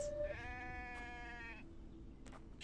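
A single sheep bleats in a video game, a clear wavering cry lasting over a second, followed by a couple of faint clicks.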